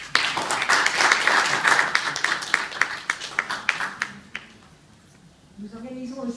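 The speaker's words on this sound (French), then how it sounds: "je vous prie de remercier et d'applaudir chaleureusement son président" Warm audience applause at a motorcycle rally presentation, a burst of individual claps fairly close and steady for about four seconds before fading out, followed by a voice starting to speak.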